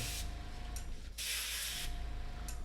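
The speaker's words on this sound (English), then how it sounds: "I have this big airbrush here" A large airbrush sprays paint in short hissing bursts, one long and several brief, close by against a faint steady hum.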